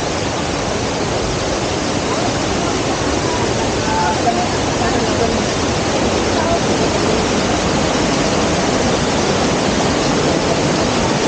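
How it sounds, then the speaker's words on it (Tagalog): Water of a creek flows in a steady, broadband rush while hikers cross it on a mountain trail, a continuous close wash with no breaks from start to finish. "Tatawid na naman kami sa sapa."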